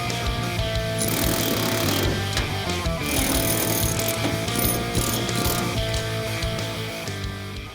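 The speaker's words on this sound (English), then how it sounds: "then we'll grab the air chisel to split the seams" A pneumatic air chisel hammers at the seams of a 1969 Dodge Charger's steel body panels in a shop, a loud, continuous rapid chatter holding steady throughout with metallic ringing over it.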